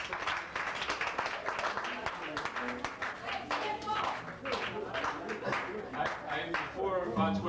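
An audience at a live music performance applauds, with dense, continuous clapping and some voices mixed in, fairly close and sustained across the whole stretch.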